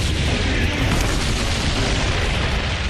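Tank guns fire in a massed armored battle at Kursk, a dense, continuous roar of booming blasts and rumbling explosions that stays loud and unbroken throughout.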